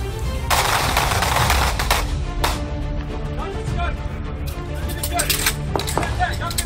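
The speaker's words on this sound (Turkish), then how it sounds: "Silah!" Rapid gunfire in a Turkish police training drama, dense bursts of sharp shots crackling close and loud, with shouted voices mixed in.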